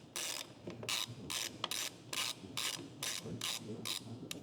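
A ratchet tightens the final bolt on a crash-damaged BMW 320d: about nine evenly spaced, crisp bursts of pawl clicking, close and fairly loud, with no talking.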